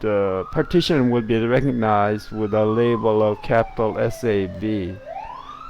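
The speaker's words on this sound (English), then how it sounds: "So sorry for the ambulance noise." Ambulance siren passing outside, its sweeping tone sliding downward in the background beneath continuous close-up talking.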